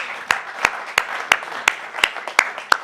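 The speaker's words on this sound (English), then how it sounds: "if everybody wouldn't mind giving a round of applause to these folks right here" Sparse applause for a student team at a college presentation: about eight distinct, evenly spaced claps, moderately loud and isolated, sounding like a handful of people clapping slowly rather than a full crowd.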